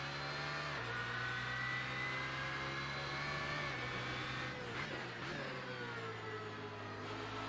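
BMW Z4 engine in the Assetto Corsa racing game, a loud continuous drone with steady harmonic whine that shifts pitch as revs change and dips briefly mid-run, with no talking over it.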